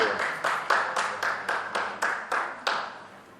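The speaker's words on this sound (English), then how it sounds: "Let's give a big round of applause for Sly, Arnold, and Ronda" Sparse, rhythmic clapping at the Expendables 3 press conference in Macau: about ten fairly close, evenly spaced claps that fade at the end, with no voices over them.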